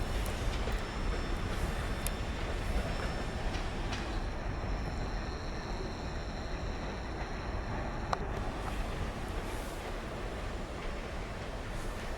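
Steady rumble of a passing Canadian National train in Michigan's Upper Peninsula, with faint rhythmic clacking of wheels on rails and an occasional metallic squeal, heard from some distance.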